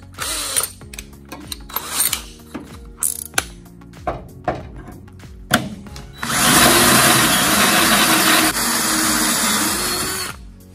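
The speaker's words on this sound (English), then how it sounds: "I drilled through this piece of angle, through the board" Power drill boring a 27/64 hole through steel angle and a wooden board: short ratcheting bursts and clicks at first, then a loud continuous grinding whine as the bit cuts steadily, close up with no talk.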